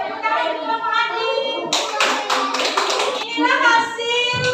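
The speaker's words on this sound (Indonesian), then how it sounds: "tepuk tangan untuk Bapak Andi." Applause breaks out in an elementary classroom, a burst of many children clapping together for a couple of seconds in the middle, with children's voices and chatter before and after.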